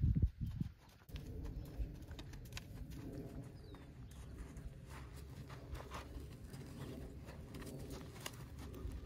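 A horse moving in a round pen, its hooves giving soft, steady clip-clop footfalls at a moderate distance, with birds cooing and calling in the background.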